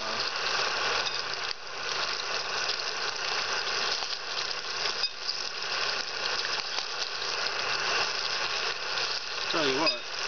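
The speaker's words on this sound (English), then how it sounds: "this is really the first time I've used this SVEA stove. And it is working awesome" An SVEA 123R camping stove burns with a steady, close roaring hiss that holds evenly for the whole stretch without pause.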